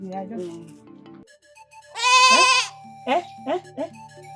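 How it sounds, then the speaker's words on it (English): A goat gives one loud, drawn-out bleat and then a few shorter ones, heard close after a stretch of talk. "So this is where my goat wandered to."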